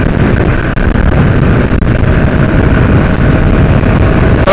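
A motorcycle travels at high speed while heavy wind buffets the microphone, producing a loud, constant low roar with the engine buried underneath.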